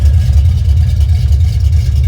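A 1974 Camaro's engine runs at idle up close, a loud, steady low rumble with a lumpy, pulsing beat throughout and no voices.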